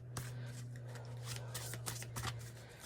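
Tarot cards being shuffled by hand in a quiet room, a soft continuous riffling and flicking of the deck at close range under a steady low electrical hum, with no talking.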